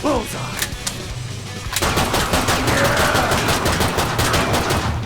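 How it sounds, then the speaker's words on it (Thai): Dual pistols firing in the video game Killing Floor 2, rapid overlapping shots in a dense continuous burst, loud and close, growing heavier after the first couple of seconds amid game noise. "ปืนพกคู่ นี่ไง"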